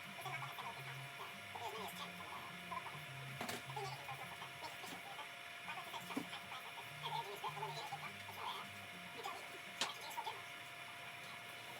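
Embroidery machine stitching a stocking in red thread, running steadily with a quiet rhythmic mechanical clatter and periodic ticking, fairly faint throughout.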